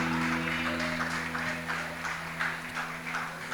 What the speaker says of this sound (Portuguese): E você pode aplaudir o Senhor com alegria por causa disso.